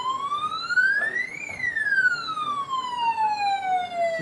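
A siren synthesized on an Apple II computer sweeps upward, then glides slowly back down in one long wail, clear and close with a faint background hiss.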